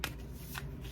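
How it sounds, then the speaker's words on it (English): A deck of tarot cards being shuffled by hand, a close, crisp riffle of card flutters with two bright bursts, steady and alone with no voice. "Let me shuffle this up"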